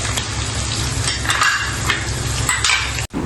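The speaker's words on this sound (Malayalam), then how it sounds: "ഈ കാര്യങ്ങളെല്ലാം ഇട്ടതിന് ശേഷം നന്നായി ഇളക്കി കൊടുക്കുക" Shallots, ginger and garlic frying in a pan while being stirred for Kerala beef perattu, a steady loud sizzle with scraping stirring strokes throughout, briefly cut off near the end.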